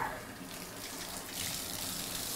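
Water gushes from a basement bathroom faucet into a bathtub, a steady close rushing hiss that swells slightly midway and continues without speech.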